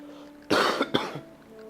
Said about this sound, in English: You probably cut out me coughing there.